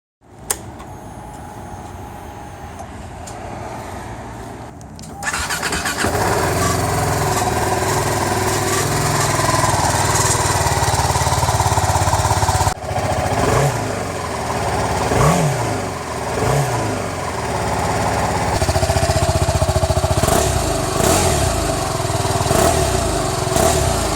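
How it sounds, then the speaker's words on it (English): A 2017 BMW G310R loaner motorcycle is ridden on the road, its engine droning loudly and steadily with wind rush, rising and falling as it revs through gears after starting from quiet. "I'm actually riding my loaner bike back to the dealership"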